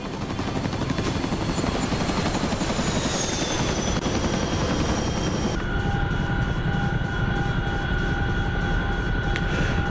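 Chinook helicopter flying in a video game, a continuous dense rotor thump and turbine drone, steady and close throughout, with a faint high whine shifting partway through.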